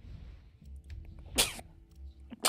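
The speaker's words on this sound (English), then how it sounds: "Damn sneeze." A single sneeze in a Far Cry 6 play session: a short, sharp burst that stands out from quiet background, with a second brief similar burst shortly after.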